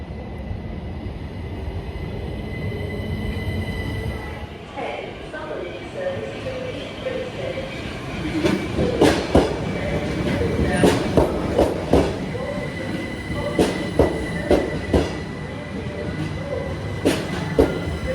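A British steam train rolls past nearby, with rhythmic clacking of wheels over rail joints growing louder in the second half over a steady rumble.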